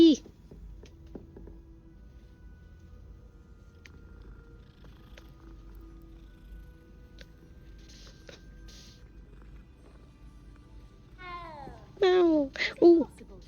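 A cat in a video game purrs softly and then gives a burst of several close, loud meows near the end, with a person's voice also heard.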